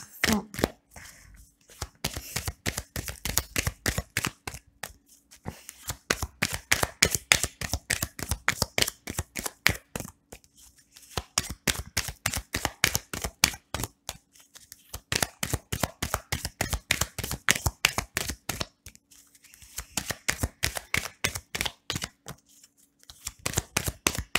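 A tarot deck is cut and shuffled close up in a long run of rapid, crisp card riffles and flicks, grouped in bursts with short pauses between them and no speech heard.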